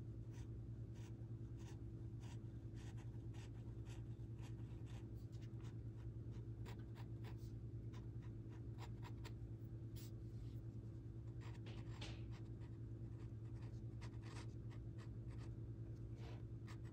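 A glass dip pen scratches across paper, writing with ink in soft, irregular strokes over a steady low hum, faint and close throughout.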